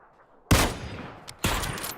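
Two loud, close bursts of rifle fire in a first-person shooter match, each a sharp crack followed by a rolling tail of rapid shots.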